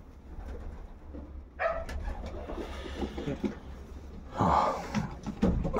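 Pigeon cooing up close in a loft on a sunny day, several soft throaty coos and rolling calls rising in bursts over low background rumble.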